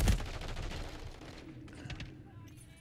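Gunfire in a shooter video game: a burst of rapid shots opens loudly, then fades into echoing rattles and scattered distant reports over about three seconds.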